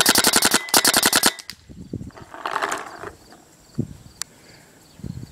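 A GoG eXTCy paintball marker fires fully automatic, a loud, rapid rattle of close shots in two quick bursts, then scattered softer clicks and handling noises.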